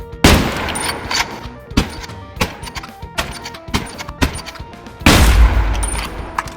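Gunfire of LPS ammo fired at legendary armor in the Exfil Zone video game: loud, separate rifle shots about every half second, each with a sharp crack and short ring-out, and a heavier burst near the end.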